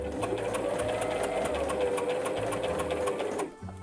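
A sewing machine runs steadily while stitching a collar onto a men's shirt, a continuous close whirring hum with fast needle ticking that stops abruptly near the end.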